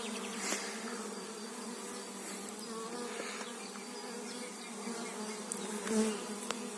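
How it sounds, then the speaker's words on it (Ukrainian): A honeybee swarm buzzes steadily, a dense continuous drone of many bees heard close by with a few louder individual passes, and no one talks. "Ось такий рій."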